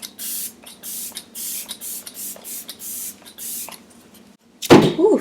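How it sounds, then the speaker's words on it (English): Morphe Luminous setting spray misted in a run of short, close bursts, about eight quick pumps with brief gaps between them, then a louder rustling handling sound at the end. "And this is the Luminous Morphe Setting Spray."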